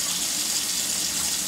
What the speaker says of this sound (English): So that's why you hear my cold water running.